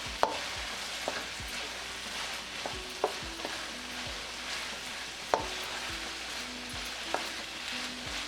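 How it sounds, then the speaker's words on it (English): Green chilli paste sizzling and frying in a pan for a minced-meat and potato korma, with a steady crackle broken by repeated sharp scrapes and knocks of a spoon as it is stirred. "green chilli paste. Give it a good stir and saute this for"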